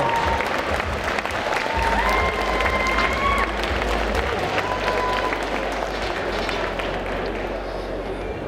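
Applause from a convention crowd at a cosplay contest, a broad steady wash of clapping that continues for the whole stretch, with a voice or two and some background noise mixed in.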